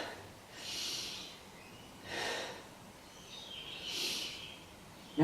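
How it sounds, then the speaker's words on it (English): Three slow, deep breaths during a beginner yoga session, each a soft, airy rush of air, evenly spaced and close, in an otherwise quiet room. "Take 3 breaths."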